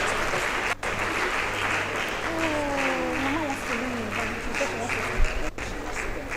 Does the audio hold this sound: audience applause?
yes